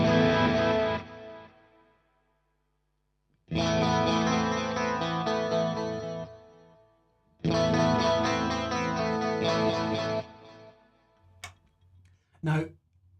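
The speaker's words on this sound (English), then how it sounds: "I'll use this setting to get the delay to appear in the right channel, and it just makes the guitar sound bigger" An electric guitar through a stereo delay set to the right channel plays three separate phrases, each ringing for a couple of seconds with a spacious, doubled tail, followed by a few short faint ticks.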